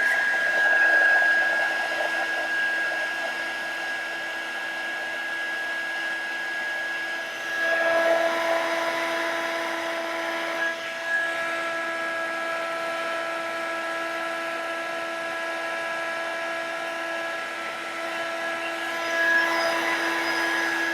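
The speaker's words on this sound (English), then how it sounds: "let's get the heat tool back out." An embossing heat tool blows continuously for about twenty seconds, a steady close whirring hum with a high whine, its pitch shifting slightly as it is moved over embossed die-cut work.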